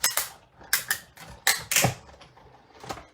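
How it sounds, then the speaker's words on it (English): A Big Shot die-cutting machine rolls a card through with a series of sharp clicking and ratcheting clacks in an uneven rhythm, close and fairly quiet, no talk. "let me run that through the big shot"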